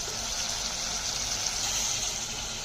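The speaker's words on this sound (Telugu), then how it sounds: "ఒక గ్లాసు చిన్న గ్లాసుతోని వాటర్ పోయండి." A small glass of water poured into a pan of cooking chicken curry gives a steady, close rushing gush with a faint hiss that holds evenly throughout, with no voices.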